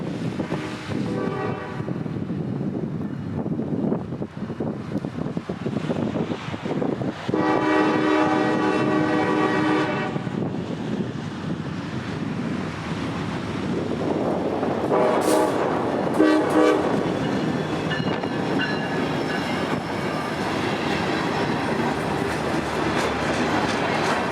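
A GP40-led freight train rolls past a depot on a cold night, its horn sounding in a steady chord from about 7 to 10 seconds, then a second sustained blast around 15 seconds, while wheels rumble continuously throughout.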